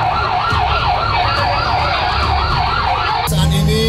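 Wailing fire engine siren at a forest fire on Pulau Deli, rising and falling in a steady repeated sweep over a constant engine and road rumble, loud and close, with a sharper change in tone near the end.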